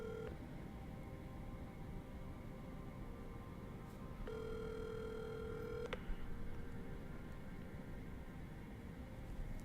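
A telephone call ringing out, heard as steady electronic ring tones in two long bursts, the second about two seconds long, over a constant background hiss with no talking.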